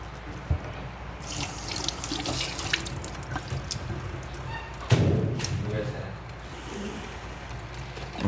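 Water runs steadily from a household tap into a sink as someone fetches water, with an occasional thud and voices faintly in the background.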